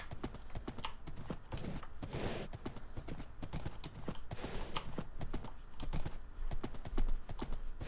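Horse hooves clip-clop steadily while riding in a video game, a brisk close rhythmic patter of hoofbeats running continuously throughout with no talk over it.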